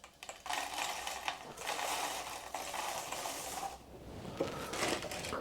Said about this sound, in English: I'm going to blitz it in this machine. 75 grams of cornflakes goes in.